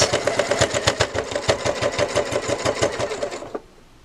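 A sewing machine stitches a patchwork quilted bow in a fast, even run of rapid mechanical clatter for about three and a half seconds, then stops abruptly.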